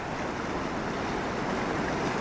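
A fast-moving mountain river near Buena Vista, once panned for gold, gives a steady broadband rush of water that holds even and continuous throughout, with no voices over it.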